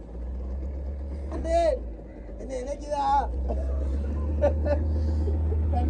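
A boat engine rumbles steadily as the craft moves slowly on a boat safari near a lighthouse view at Oluvil, with people talking over the continuous low drone.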